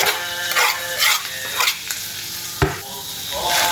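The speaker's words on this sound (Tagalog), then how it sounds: "Yan, haluin natin yung mabuti." Cooked meat and chopped parsley being stirred in a hot pan for rice kubba, with bursts of scraping and sizzling at an uneven rhythm and a sharp knock of the utensil near the end.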